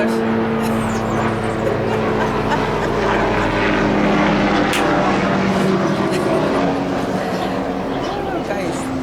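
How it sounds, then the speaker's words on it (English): Propeller airplane passing overhead, a steady droning hum that swells and fades slightly across the span, moderately loud and continuous outdoors, with faint background sounds. "how many videos do I do and finish without a plane passing by?"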